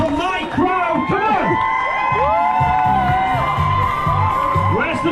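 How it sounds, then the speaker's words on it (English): Spectators at a race day by Lake Ludwig in Wales cheer, whoop and shout loudly and continuously as the final runner comes through, with an announcer's amplified voice over the crowd. "Give them a big cheer, the final one is coming through."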